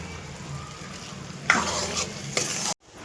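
Dahi chhole masala is stirred in a pan with close, scraping spoon strokes over a low sizzle, two louder bursts of mixing, then a sudden cut to near silence.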